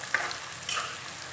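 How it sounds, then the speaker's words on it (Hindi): Beef brain stirred in a hot pan gives a soft, close frying sizzle with light scraping from the stirring, brief and fairly quiet. "इसको डाल के थोड़ा सा हिलाना है इस तरीके से।"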